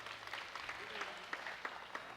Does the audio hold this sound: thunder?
no